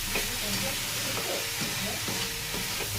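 Batter for a winter dosa-style pitha is mixed with sugar and milk powder, giving a steady wet stirring and scraping sound, close and fairly loud and continuous, with no voices.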